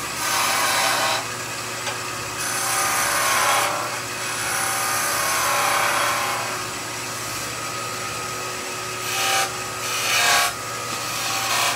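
A skew chisel cuts a wooden Christmas nutcracker spinning on a woodturning lathe, giving a steady scraping, rasping hiss that swells and eases with each pass, close and alone over a constant low motor hum.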